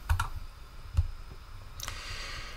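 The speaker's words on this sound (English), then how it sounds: "I'm going to click on OK" Computer mouse clicks near a desk, a couple of sharp light taps spaced about a second apart, quiet with faint room hiss and no talk.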